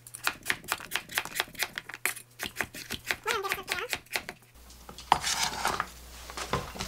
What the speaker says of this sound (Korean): 호박은 조금 납작납작하게 한 입 크기로 썰어주겠습니다